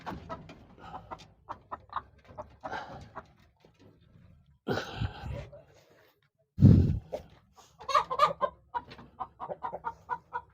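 A large rooster of about 8 kilos clucks and crows in short bursts near the microphone, with someone talking before and around the calls.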